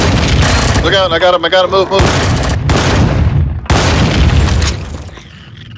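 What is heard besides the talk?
turret gunfire and explosions in video game Empyrion: Galactic Survival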